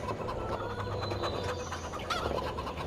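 Chickens in the farming video game Farm Sim 25 clucking in a steady low chatter of short calls, moderately quiet, with no speech over them.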